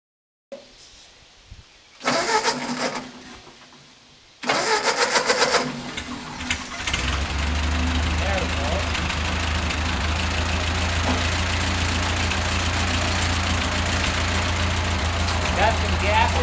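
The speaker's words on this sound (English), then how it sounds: "Let's see if we can get the tractor running, shall we?" An old Ford tractor engine is cranked, fires after a couple of attempts and settles into a steady, loud idle with a low, rough rumble that goes on to the end.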